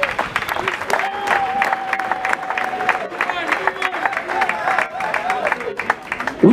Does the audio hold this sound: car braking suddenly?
no